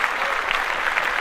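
A short burst of steady audience applause, dense clapping throughout.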